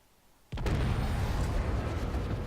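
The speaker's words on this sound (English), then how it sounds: "Torpedoes incoming" A torpedo explosion in a naval combat game hits suddenly after near silence, then a sustained roaring rumble of blast and debris continues loud and unbroken to the end.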